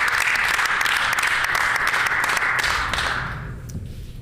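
Sustained applause fills a legislative chamber, many hands clapping densely and loudly for several seconds before thinning out and fading toward the end.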